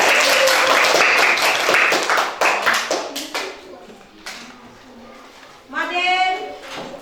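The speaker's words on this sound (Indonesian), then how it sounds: "Tepuk tangan untuk Fadila." Classroom applause for a student named Fadila who scored 100: a burst of many children clapping, fairly loud and dense, tapering off, then a second short burst of claps near the end.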